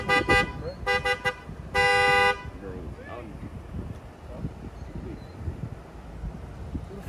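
Several loud car horn honks near the start, short beeps then a longer blast, followed by voices and wind noise.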